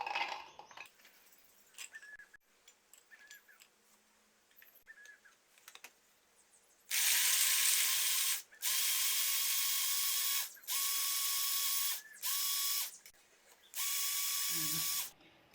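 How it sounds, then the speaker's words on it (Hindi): A small hand chopper works on dried garlic cloves, starting with quiet ratcheting clicks and then five loud, sustained whirring bursts separated by short pauses, all close up and without talking. "अब इन्हें चॉपर से चॉप कर लेंगे।"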